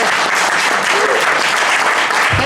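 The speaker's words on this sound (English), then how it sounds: "A very big round of applause for Rudy." A big round of applause from the audience at a V-Drums clinic, dense steady clapping filling the room for a couple of seconds with no talk over it.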